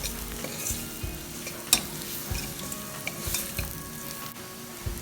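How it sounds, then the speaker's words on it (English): Masala powders are stirred into a thick chicken gravy in a pan with coconut oil, giving a continuous frying sizzle with repeated scrapes and taps of the spoon, and no voices. "giving a good mix for all the masala powders get combined"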